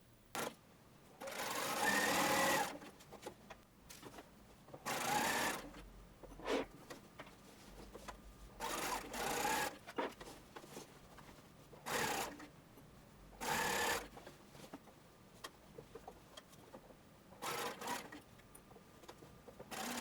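A sewing machine runs in repeated bursts of a few seconds each, joining centre front and centre back seams of harem pants, with short pauses between runs and no talking.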